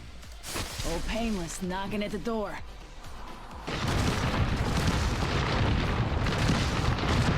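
Someone speaks briefly, then Bangalore's ultimate in Apex Legends sets off a loud, rolling wall of overlapping explosions that rumbles on without a break.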